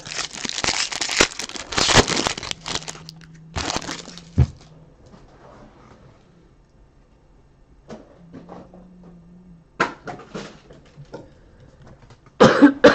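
Someone with a bad chest cold hacks out several loud, rough coughs in bursts near the start, with scattered quieter coughs and crinkling later, close to the microphone.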